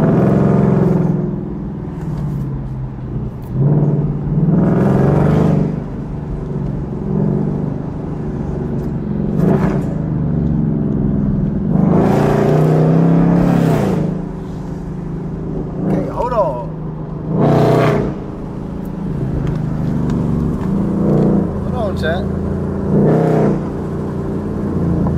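A car engine fitted with a Steeda air intake revs repeatedly, loud surging bursts with an intake roar rising and falling at close range, while people talk between the revs.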